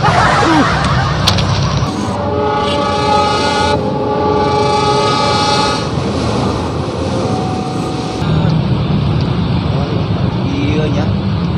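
A loud train rumbles past close by with a sustained horn blast and clattering wheels, while people talk over the noise.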